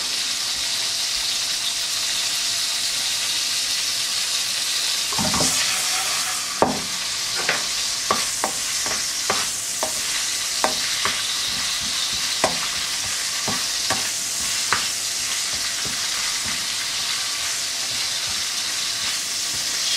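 Small foraged dandelion greens frying in a pan, giving a steady loud sizzle throughout, with a run of sharp scrapes and taps from a utensil stirring in the middle; no talking.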